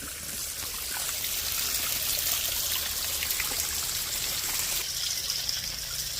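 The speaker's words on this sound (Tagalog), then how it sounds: "Ayan oh, mini waterfall oh, triples." Small triple-stream waterfall at a hot spring in Pugo, La Union, pouring in a steady, close, full rush of splashing water with no talk over it.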